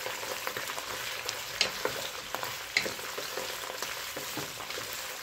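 Sausage sautéing in a hot pan for Egyptian pasta, a dense continuous sizzle with scattered crackles and stirring clatters, close and steady throughout, no talking.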